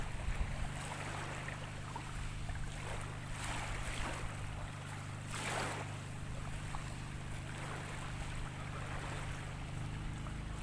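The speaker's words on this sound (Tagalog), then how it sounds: "So may paparating na bangka." A distant approaching boat engine drones low and steady over soft wind and lapping seawater off an island, faint throughout and without talk.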